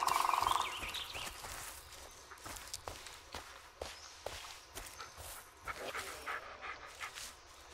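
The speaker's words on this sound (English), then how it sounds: "Listen to his barking, watch his body language." A dog in the Blair Witch video game pants and moves about, with footsteps and a brief whimper-like sound, close and moderately loud.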